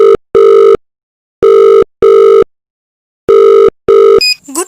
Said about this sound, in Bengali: তারপর আলট্রা নিউ পয়জন গেমের ফোন নম্বরে ফোন করলেন।